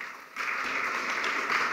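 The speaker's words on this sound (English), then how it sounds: "Farmers always get spontaneous applause." Spontaneous applause from a conference audience at a smallholder farmer financing event, starting after a brief quiet moment and holding steady as a dense, moderately loud wash of clapping.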